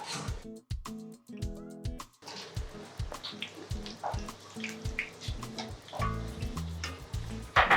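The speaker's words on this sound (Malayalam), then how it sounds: "നമുക്ക് എണ്ണയിലിട്ടിട്ട് ഫ്രൈ ചെയ്തെടുക്കാം" Rolled bhatura dough sizzles and bubbles in hot oil, a steady crackling fry with sharp clicks and taps of utensils against the pan throughout, close and moderately quiet.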